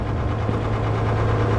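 A generator runs in a room in the horror game Sewer Call, a steady, loud low-pitched engine drone with a constant hum and faint knocking throughout, with no talk.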